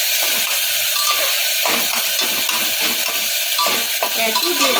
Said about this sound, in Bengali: আমি দুটো টমেটোকে ছোটো ছোটো করে কেটে নিয়েছি ভালো করে নেড়ে চেড়ে নেবো